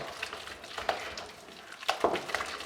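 Choux pastry dough worked by hand in a large mixing bowl, soft wet squelching and scraping strokes at an uneven pace, with a few sharper sticky slaps, close and fairly quiet.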